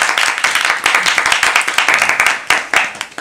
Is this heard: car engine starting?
no